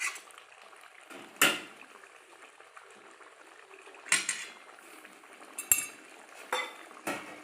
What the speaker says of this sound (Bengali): দিচ্ছি ঢাকা এখন।